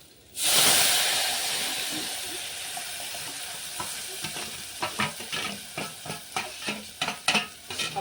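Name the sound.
spice paste frying in hot oil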